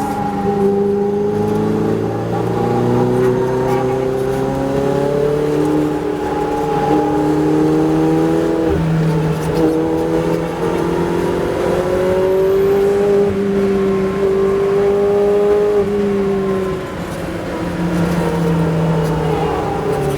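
A Ferrari 488 Challenge race car on track howls loud and close, its engine pitch climbing through the gears with brief dips at each upshift across the run, and no one speaking over it.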